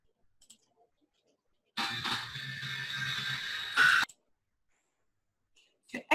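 Computer mouse clicks while presenting a Google Slides deck: a quiet click or two, then a longer mechanical clicking and whirring stretch, a sharper click, and a few faint clicks near the end.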